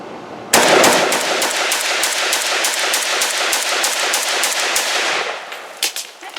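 A Zastava Z-PAP AK rifle in 7.62x39 fed from a Bosnian surplus magazine fires a long, rapid string of loud, sharp shots in even succession for about five seconds, then a few scattered trailing sounds.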